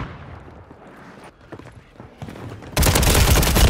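Video-game gunfire in Warzone 3 starts with scattered distant shots and then erupts into a loud, dense burst of rapid fire near the end, with no voices.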